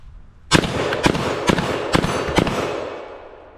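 Five loud, close blasts from a Genesis Arms Gen-12 12 gauge AR-style shotgun firing buckshot outdoors at steel, spaced roughly half a second apart, each with a sharp crack and a rolling tail.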